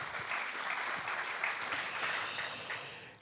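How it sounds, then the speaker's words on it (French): An audience applauds guests Claude Bécher, a Mennonite theologian and historian, and his wife at an evening talk on evangelical Protestantism; steady, dense clapping fills the room throughout and tapers slightly at the end. "je pense qu'on peut les saluer et les applaudir."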